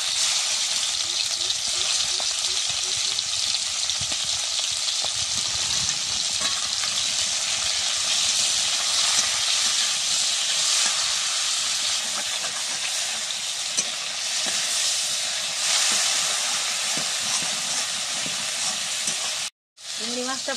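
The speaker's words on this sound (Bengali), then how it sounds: "চিংড়ি মাছগুলো দিয়ে তেলে ভেজে নিচ্ছি।" Shrimp fry in mustard oil in a wok, giving a steady, loud, close sizzle with constant crackling that runs throughout with only a brief break near the end.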